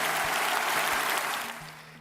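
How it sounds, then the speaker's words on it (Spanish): Auditorium audience giving a standing ovation to the Spanish prime minister after his announcement, steady dense clapping that holds strong and then tapers slightly toward the end. "Todo el auditorio se puso en pie aplaudiendo al presidente del Gobierno"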